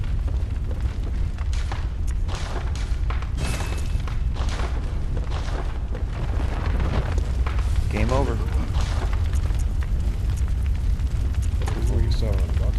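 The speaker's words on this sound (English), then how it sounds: "This place is on fire." Steady crackling roar of fire burning through a location in the video game Bloodborne, a dense continuous rumble with scattered pops and booms, loud and sustained throughout with no pauses.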